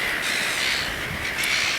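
Seagulls call over Carnac Island in a dense, continuous chorus of harsh squawks, loud and close, with no voices.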